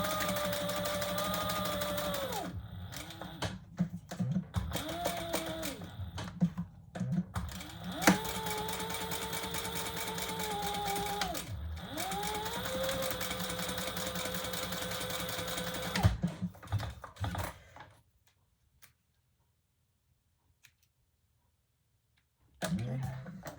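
A sewing machine stitches leather D-ring connectors on a retro-style sling bag, its motor whining loudly in bursts that rise and fall in pitch, then going quiet for several seconds before starting again briefly at the end.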